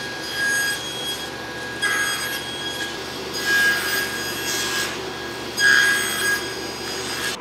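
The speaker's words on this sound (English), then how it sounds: "I will run that through the table saw, cut these ends off" A table saw trims the ends off glued-up wood pieces, producing repeated whining cutting passes over a constant motor hum, each cut swelling and fading in turn.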